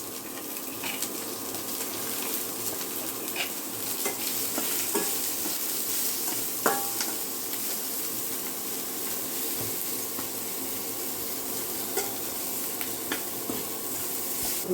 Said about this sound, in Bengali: দিয়ে দেবো পেঁয়াজ কুচি, দিয়ে দেবো পরিমাণ মতো লবণ আর হলুদ।